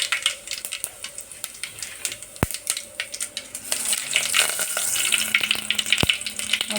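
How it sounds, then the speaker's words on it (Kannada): Mustard seeds and cumin splutter in hot oil, starting as scattered pops and sharp crackles and building into a denser sizzle, close and fairly quiet with no voices. "ಈಗ ಅದಕ್ಕೆ ನಾನು ಸಾಸಿವೆ ಜೀರಿಗೆನ ಹಾಕ್ತಾಯಿದ್ದೀನಿ"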